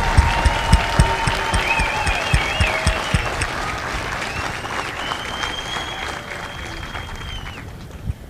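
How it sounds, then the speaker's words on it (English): Crowd applause at a Marine Corps recruit graduation ceremony at MCRD San Diego, a broad steady roar of clapping from a large outdoor audience, with a few sharp claps standing out and faint whistles running over it. "So please join me for a well-deserved round of applause for the drill instructors and families of Bravo"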